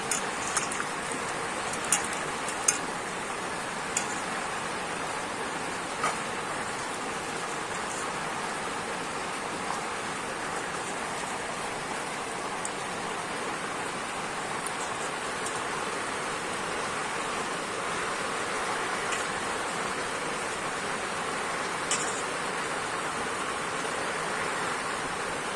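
Hog plums (amra) being washed in water for a sweet-sour chutney, a steady broadband splashing and trickling wash that runs throughout at a fairly even level, with a few faint clicks and knocks near the start.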